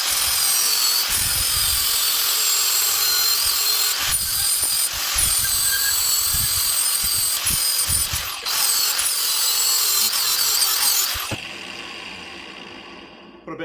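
Power tool cutting and trimming a metal exhaust pipe for a 1965 Matchless G12 CSR motorcycle, a loud continuous high whine with brief dips and catches, ending abruptly into a quieter tail.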